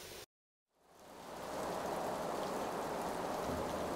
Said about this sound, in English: It seems as though it's been non-stop raining in recent times